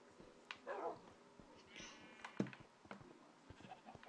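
Dogs in the Minecraft video game give short barks and whimpers, scattered as sparse, fairly quiet bursts, with other faint game noises in between.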